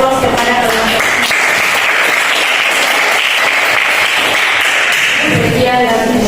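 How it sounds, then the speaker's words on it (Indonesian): Classroom applause for students after a chemistry lesson on isotones, a steady burst of clapping lasting several seconds with voices mixed in. "Kita berikan aplaus kepada teman-teman."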